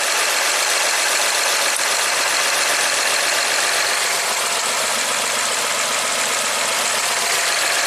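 A Honda Accord engine idles steadily during a cylinder 6 drop test, its continuous broadband running noise loud and close throughout, with no talking.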